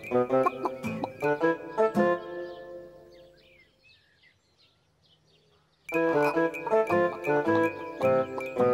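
Cartoon chickens cluck in a children's animated tractor series, bursts of clucking and bright musical tones opening the scene, a quiet gap in the middle, then the busy clucking and music returning loud.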